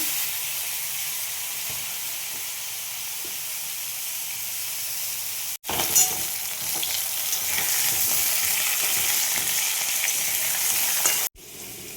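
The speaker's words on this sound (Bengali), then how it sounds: "আলুগুলো ভেজে নেব।" Potatoes fry in hot oil tempered with bay leaf and cumin, producing a loud, continuous sizzle that cuts out briefly twice. No voices.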